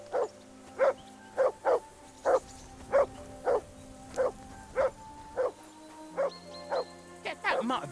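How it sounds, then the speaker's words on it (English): A dog barks in the medieval open-world game Kingdom Come Deliverance 2, about a dozen single woofs at an even, regular pace over a quiet ambient backdrop, with a brief cluster of quicker yips near the end. "Get that mutt of yours to stop barking, will you?"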